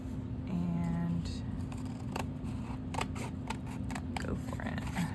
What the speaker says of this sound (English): So we're just gonna go ahead and use our scissors here.